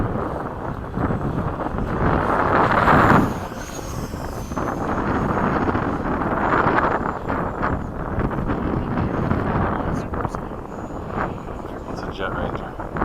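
An FMS 70mm F/A-18 RC jet flying near full throttle over a flying field: a steady, breathy ducted-fan rush with wind buffeting, swelling louder as it passes, while people talk nearby.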